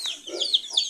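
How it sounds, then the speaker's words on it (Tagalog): Chicks roaming free around a farmyard with other livestock give high, chirpy clucks in a few short bursts close by, with no talk. "Ito kanya nakagala-gala yung ating mga sisiw."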